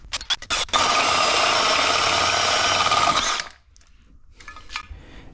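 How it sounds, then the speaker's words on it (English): A hole saw sized for half-inch conduit drills steadily and loudly for about three seconds, then cuts off, leaving a few faint clicks and handling noises. "I ended up just like drilling with a hole saw for half inch conduit."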